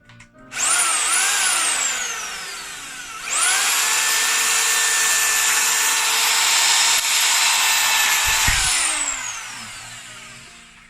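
Power drill fitted with a 5 mm metal bit boring holes while plasterboard is put up, two loud sustained whining runs with the motor pitch rising and falling, close by and with no talk over it.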